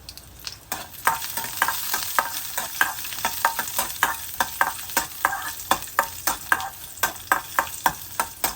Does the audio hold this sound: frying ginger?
yes